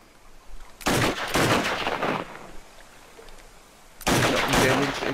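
Gunfire in the video game Mafia 3 comes in two loud bursts of rapid shots, the first lasting over a second and trailing off, then a quieter gap before a second burst breaks out.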